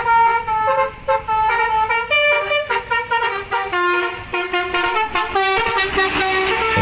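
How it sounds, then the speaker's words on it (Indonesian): A toy telolet bus horn plays a loud, continuous multi-tone honking melody of rapid changing notes, close and alone, with no talking. "Yuhu, keluarlah bus telolet."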